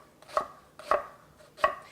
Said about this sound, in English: So these I'm just going to give a nice little rough chop to on the onions